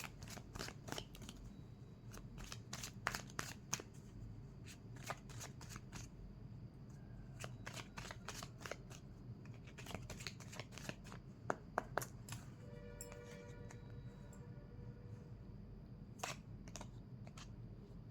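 Tarot cards are shuffled and drawn, soft rapid riffles and flicks of card stock close by in bursts, with quiet taps and slides between them and no speech.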